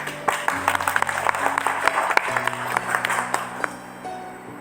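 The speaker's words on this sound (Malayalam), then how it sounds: "എന്തിനാ നമ്മൾ കൈയടിക്കുന്നത്?" An audience clapping hands at a religious discourse gathering, a series of sharp, uneven claps with a voice intermittently audible beneath, fairly close and steady across the stretch.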